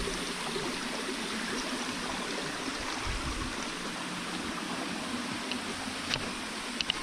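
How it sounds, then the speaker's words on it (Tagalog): Steady broadband rush of a waterfall and flowing stream in a forested spot, constant and fairly close throughout, with no talking. "Ito yung falls na sinasabi nila na makikita natin dito."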